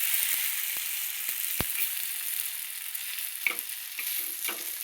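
Food sizzles steadily in a hot pan while it is flipped, with sharp clacks and scrapes of a utensil against the pan scattered through the constant frying hiss.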